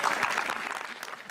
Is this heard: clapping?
yes